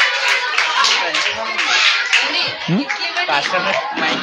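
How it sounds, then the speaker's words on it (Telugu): Clapping from a gathering of children and adults at a VBS prize programme in a prayer house, lively uneven claps mixed with chuckles and chatter, near and loud. "అందరికీ కూడా చప్పట్లు కూడా"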